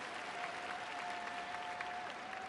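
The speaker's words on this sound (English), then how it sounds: "Keegan Murphy leading the applause on the side" Sustained applause from an arena crowd after a men's free skate at the Four Continents figure skating championships in Shanghai, a steady, dense wash of clapping with a faint constant tone underneath.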